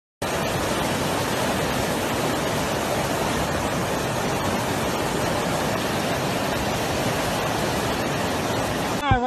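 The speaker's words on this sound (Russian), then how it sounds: "Вода, поток." Flood water rushing through a flooded residential yard in Novorossiysk, a loud, dense, unbroken roar of flowing water throughout.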